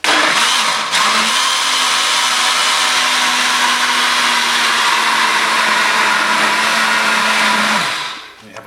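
A blender pulses a cooked potato, onion and stock mixture with a splash of boiling water for soup, giving a loud, steady motor whir for several seconds before cutting off.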